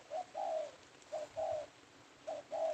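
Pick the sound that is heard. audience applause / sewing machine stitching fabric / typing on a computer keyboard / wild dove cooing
wild dove cooing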